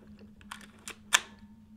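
Minolta X-300s film camera being handled, a few small close mechanical clicks ending in one sharper shutter-like snap, quiet and isolated.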